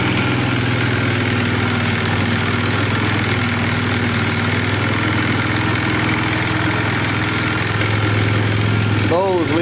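A Polaris 325 Magnum four-wheeler engine idles high and steady on its first start after sitting trashed, a continuous close, loud drone with a brief sharper sound at the very end.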